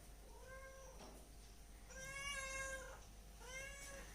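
A large tomcat meows three times nearby on a farm, drawn-out and plaintive, with short pauses between calls over a faint steady background hum.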